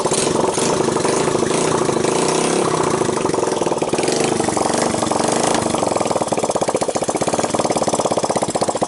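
The engine of a 1985 Honda ATC 200X ATV from a junkyard idles loudly and close up with a steady, rapid putter, a slight rise in pace toward the end, and no talking over it.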